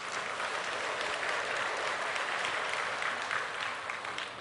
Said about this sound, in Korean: 우리 하나님 앞에 감사 박수.